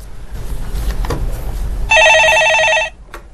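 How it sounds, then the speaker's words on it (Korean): A telephone rings once, a loud electronic burst of about a second that follows a short stretch of low background rumble and soft noise. "전화 받았습니다"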